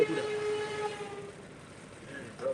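Truck brakes squeal in a thin, high, whistling tone that holds for about a second, then fades to a low rumble before a faint squeal returns near the end.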